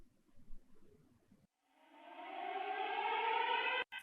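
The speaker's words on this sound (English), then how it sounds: "air raid siren." An air raid siren sound effect rises into a sustained, wailing tone about halfway through, holding steady and loud before cutting off abruptly near the end. It follows a stretch of faint low rumbling.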